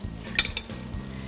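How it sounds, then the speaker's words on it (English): Food being stirred in a pan, a soft steady sizzle with a couple of light metallic clinks from a utensil, close and quiet. "we're going to stir this in"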